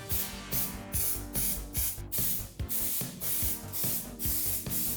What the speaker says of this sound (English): The process starts off by applying a couple coats of mold release spray.